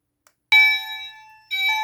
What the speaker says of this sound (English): somehow I can hear the chimes